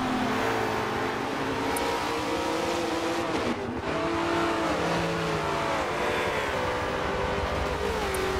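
Race car engines in the Forza video game at Daytona, a loud continuous high-revving drone with pitch shifting through gear changes and a brief dip, close and constant, without talk.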